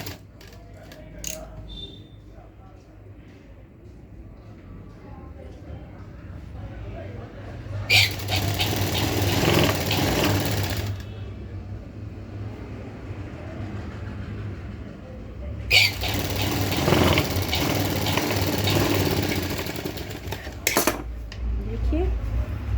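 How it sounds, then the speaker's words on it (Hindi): A sewing machine stitching a blouse seam runs in two sustained bursts of rapid mechanical whirring, with quieter handling sounds and someone talking in between. "हम इसको भी 1 इंच ऊपर गले से ऊपर की तरफ रखेंगे और एक पैर की सिलाई लगाएंगे।"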